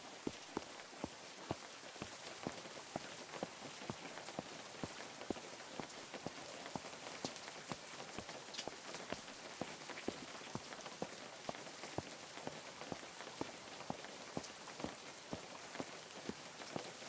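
Rain patters on surfaces in the video game Unturned, a dense continuous hiss speckled with sharp drop ticks and faint step-like taps, quiet and steady throughout with no talking.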